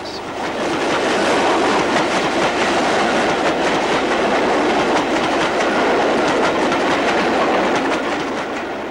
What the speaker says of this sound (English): 2 Class 5s worked 15 coaches northwards.